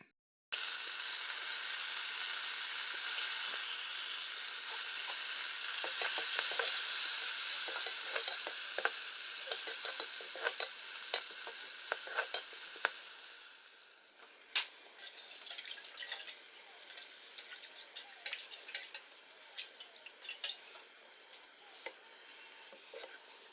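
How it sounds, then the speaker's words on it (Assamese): Dried fish frying in hot oil gives a steady, dense sizzle for about fourteen seconds, then settles into quieter scattered pops, scrapes of stirring and occasional drips, with no talking. "এইবোৰ মিছা শুকান মাছ। ইয়াকে তেল দি ল'লোঁ।"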